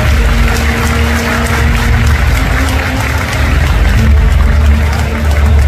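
A crowd applauds steadily at a women's boxing match between a Vietnamese fighter and a Philippine opponent: dense, loud clapping that holds at one level throughout with a faint low hum under it.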